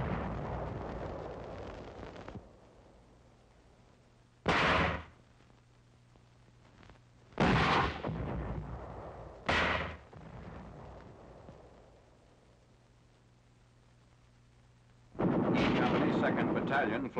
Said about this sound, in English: Enemy troops in a rice paddy are subjected to the mortar fire.